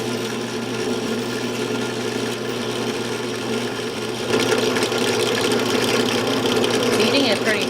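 A saw blade cutting into a wooden guitar workpiece during a DIY guitar build, a steady close whine and rasp running throughout and growing louder and busier partway through.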